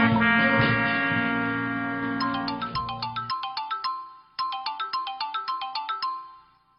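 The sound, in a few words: phone ringtone ringing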